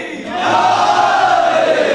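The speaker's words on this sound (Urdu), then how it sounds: "نوجوانوں ایک نعرہ لگائیے۔ نعرے حیدری" Young men at a religious majlis gathering at Dargah Hazrat Abbas in Lucknow shout the slogan Nara-e-Haidari together, a loud collective cry that swells after a brief pause and holds strong to the end.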